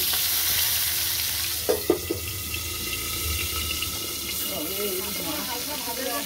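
Boal fish fries covered in a pan with a continuous close sizzle. A few sharp knocks come early, and a faint voice murmurs under it toward the end.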